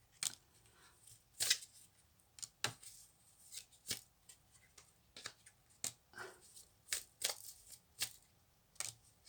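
Oracle cards are laid out one after another as soft, crisp taps and slaps, roughly a dozen at an uneven pace, quiet and close with no talk.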